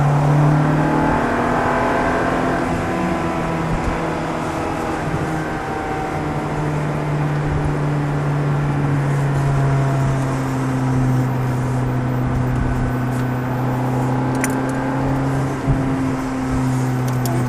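Ferrari F430 engine on a racing circuit, droning steadily and loud throughout as it pulls and accelerates, with a sustained low harmonic hum and faint tyre and wind noise, no talking.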